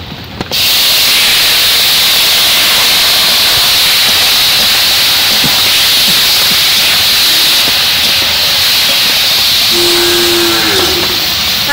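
Water lily stem curry goes into a hot pan with garlic fried in oil, setting off a sudden loud sizzle that continues as a steady close hiss.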